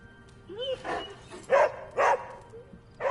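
Charlie, a dog in the video game Marvel's Midnight Suns on PS5, gives a short whine followed by three distinct close barks in quick succession, each bark sharp and loud against a quiet background.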